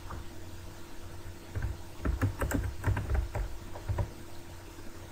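Cursor keys tapped on a computer keyboard, a quick burst of soft clicks in the middle with a couple of isolated presses before and after, over a low background hum.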